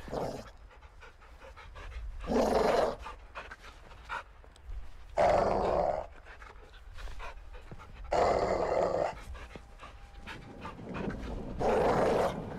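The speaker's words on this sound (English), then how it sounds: "You see the caged dog?" A caged dog in Call of Duty Modern Warfare II pants heavily in repeated loud, breathy bursts about every three seconds, with low growls between them.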